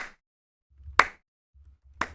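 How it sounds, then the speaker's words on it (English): Two sharp, isolated hand claps about a second apart, close and crisp, with faint low rumble between them in an otherwise quiet room. "you don't need to clap obnoxiously like that"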